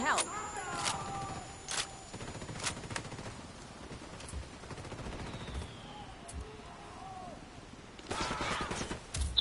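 Loud gunfire in the video game Ghost Recon Wildlands, from a gun with only partial noise reduction: repeated sharp shots in bursts, close and harsh, with a quieter stretch in between.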